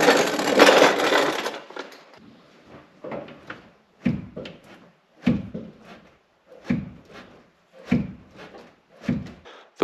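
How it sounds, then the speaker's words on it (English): Clutch pedal of an air-cooled Porsche 911 930 being pushed repeatedly, giving a series of about six sharp mechanical clunks and creaks at a steady rhythm after a brief burst of louder noise, close and distinct with no talk. "I'm gonna go push on the clutch pedal and see what this does."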